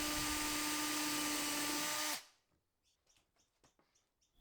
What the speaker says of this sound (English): I can drill a hole for the router bit to go through.